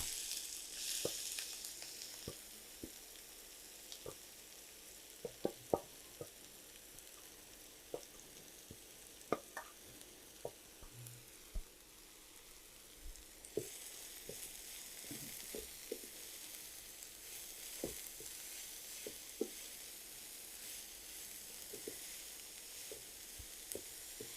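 Kolai greens go into a pan of fried onion and sizzle quietly, a soft steady hiss broken by scattered clicks and scrapes of stirring, fairly faint, with no speech.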